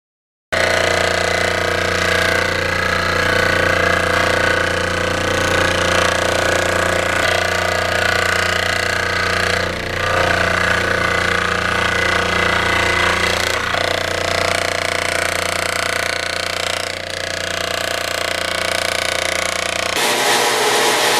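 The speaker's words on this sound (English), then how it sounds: "Get out the Dremel saw" A Dremel saw cuts carbon fiber tabs for a Ninja motorcycle fairing repair, giving a loud, steady, high-pitched whine that runs unbroken for about twenty seconds before stopping abruptly near the end.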